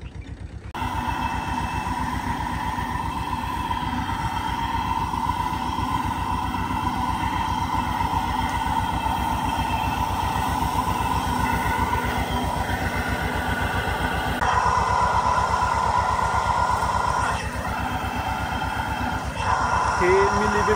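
A tractor-mounted sprayer works through a grape vineyard, applying a precautionary spray against mealybug. A steady engine drone with a hissing spray runs unbroken and fairly loud throughout, and a voice talks over it.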